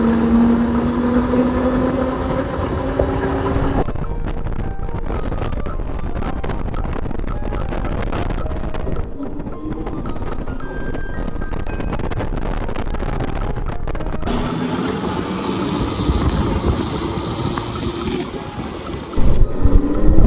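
An Ola Roadster X+ electric motorcycle rides past with a steady whirring motor hum and rushing wind, fading at times and then swelling louder again toward the end.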